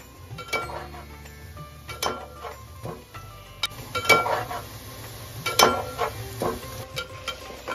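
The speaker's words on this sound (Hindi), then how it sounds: "अब करछी को चलाएंगे धीरे धीरे ताकि प्याज अच्छे से भुन सके और इक्वली भुन सके।" A ladle stirs onions frying in a pan for a mutton korma, giving repeated scraping clinks of metal on pan over a low, steady sizzle, moderately close with no talk.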